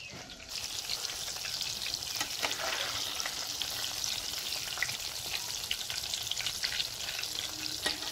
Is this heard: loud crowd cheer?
no